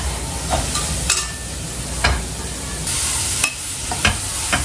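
Vegetables and herbs sautéing in a pan give a steady, close sizzle broken by several sharp stirring scrapes and clacks at irregular intervals, with no voices.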